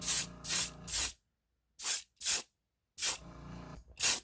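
Short bursts of Vallejo beige paint from an airbrush or spray can onto a model car body, a '40 Ford Coupe street rod: a rhythmic pattern of close hissing puffs, three quick sprays, a pause, two more, then another group.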